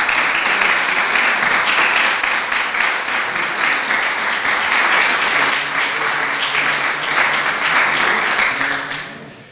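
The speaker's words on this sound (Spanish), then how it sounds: "Un aplauso para ella." Warm, full applause from an audience at an international poetry prize ceremony honoring the winning poet, a loud, continuous wash of many clapping hands that holds steady and then tapers off at the very end.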